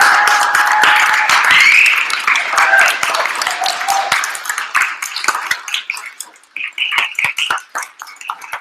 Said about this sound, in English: huge applause for Nicole Hansen